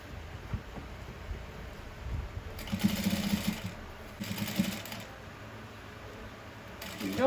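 Bursts of sewing machine stitching on fabric, a close rapid mechanical whir running in two short runs with pauses between, over faint background noise.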